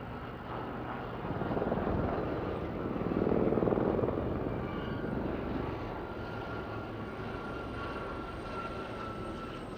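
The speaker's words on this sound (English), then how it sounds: "it's 5 helicopters, and secondly, because 4 of them are of one type, there are 4 Gazelles, and 1 is a Lynx." A formation of Army Air Corps helicopters, four Gazelles and one Lynx, passes at an air show, a distant steady rotor and turbine drone that swells twice as they fly by, with no talking.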